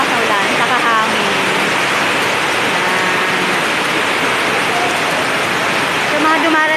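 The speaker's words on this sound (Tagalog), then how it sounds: "Kakasagsagan po ng malakas na malakas na malakas na ulan." Heavy rain pours down hard across an outdoor venue during a windy storm, a loud, dense and steady roar of water that continues without a break, with voices faintly mixed into the downpour.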